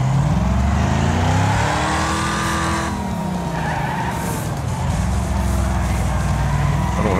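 A race car in the video game Wreckfest revs hard in too high a gear, its engine droning and rising and falling with loud tire skidding and squeal throughout, no talk over it.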